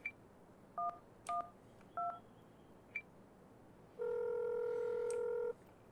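Phone keypad dialing tones for an emergency call: a handful of short, separate beeps at an uneven pace, then one longer sustained tone about a second and a half long, clear over quiet background.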